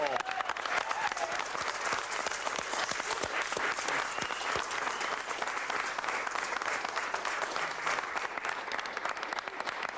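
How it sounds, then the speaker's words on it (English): An audience at a race event applauds the champion, Paul Darby, with dense, steady clapping that fills the whole stretch at an even loudness, while a voice is heard partly under it. "Big round of applause for Paul."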